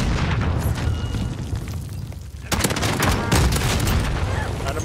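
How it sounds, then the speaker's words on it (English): A stun grenade going off in the shooter game Warzone: a loud burst partway through, over a dense rumbling wash of game noise and gunfire, with the player talking over it. "Throwing stun grenade."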